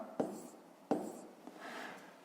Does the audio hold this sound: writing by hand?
yes